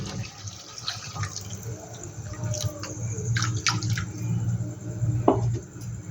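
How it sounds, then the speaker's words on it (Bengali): Water poured from a rinsed mixer bowl into a cooking pot of prawn curry, a soft continuous splashing with a brief louder gush near the end over low kitchen hum. "আমি দেখো এই মিক্সি ধোয়া বাটিটা দিয়েই জল দিয়ে দিচ্ছি"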